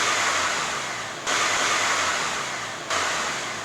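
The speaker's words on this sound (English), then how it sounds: "we're going to bring the RPMs up to 2500 and see if the shift light will illuminate" An Acura RSX engine revving to about 2500 RPM. A steady engine drone swells twice in quick surges, each fading gradually, with no talk.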